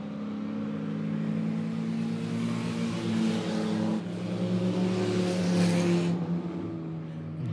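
Late model race cars circling Monett Motor Speedway in a feature race, engines roaring steadily and loudly throughout with pack noise swelling as cars pass, with a faint announcer voice underneath.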